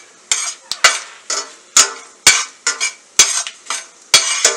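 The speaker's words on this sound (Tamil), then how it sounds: "ஸ்டேஜில் அந்த 4 பிரிஞ்சி இலையை போடுங்க, அதையும் கொஞ்ச நேரம் வறுங்க." Bay leaves fry on a flat steel pan over a low flame. A spatula scrapes and clacks against the metal in loud, quick strokes, roughly two each second, and a little sizzle runs underneath.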